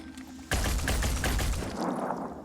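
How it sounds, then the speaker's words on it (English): A shotgun in the video game Phoenix Point goes off abruptly with a loud, close blast that rolls into a dense burst of rapid follow-up shots, then fades into a rumbling tail. "That's the shotgun for you."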